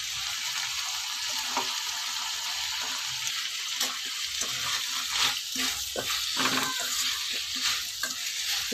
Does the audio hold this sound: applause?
no